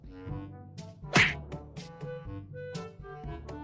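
A cartoon kick lands on a zombie in an animated story, a sharp whack near the middle that stands out against background music and scattered lighter hits.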